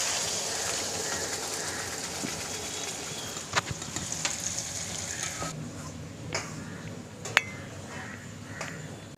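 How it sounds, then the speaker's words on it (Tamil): Ground tomato and onion paste goes into hot oil with garlic and curry leaves for an oily brinjal curry, giving a steady close sizzle with occasional sharp clicks of a spoon stirring the pan. "இப்போ அரைச்சி வச்ச இந்த தக்காளி வெங்காயத்தை நம்ம இதில் ஆட் பண்ணிக்கலாம்."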